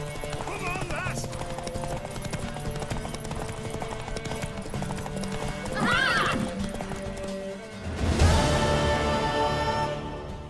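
A horse gallops with rapid clip-clop hoofbeats and lets out loud neighs and whinnies in the Witcher 3 video game, with voices talking over the action and game music underneath.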